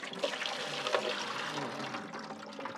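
Water poured out of a whole-house filter housing into a bucket, a steady splashing stream that carries on for a few seconds at close range.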